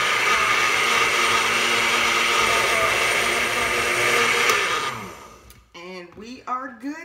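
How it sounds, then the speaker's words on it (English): A kitchen blender whirs loudly and steadily while mixing egg loaf batter with cinnamon, then winds down and stops, after which a voice speaks. "So we're gonna give this one more blend."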